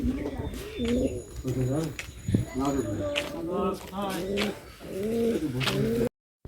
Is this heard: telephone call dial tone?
no